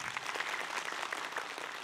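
Faint applause from a gathered audience at an Islamic talk show, a brief dense patter of many hands heard at a distance with no speech on top.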